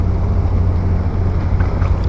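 Boat passing near Baseco Jetty during holiday fishing, a low steady engine drone mixed with wind rumble on the microphone, continuous and fairly loud, with no voices.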